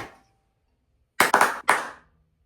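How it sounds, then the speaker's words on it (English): Hand claps for syncing cameras, two sharp close claps in quick succession after a brief faint sound at the start, otherwise quiet. "I'm gonna do the clap and turn it on."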